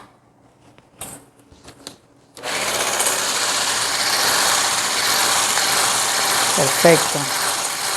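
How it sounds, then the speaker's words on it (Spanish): A manual grinder crushes walnuts for an apple pie filling, starting after a few soft clicks and then grinding steadily and fairly close. A short voice speaks near the end. "Y luego vamos a moler con nuestro molenillo normal."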